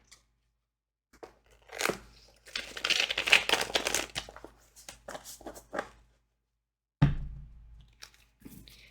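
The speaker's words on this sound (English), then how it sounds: "Okay, let me shuffle one more time." Tarot cards are shuffled up close, giving a rapid flurry of crisp papery riffles and taps that rise into a dense burst, then fade before a final soft thump and a few light clicks.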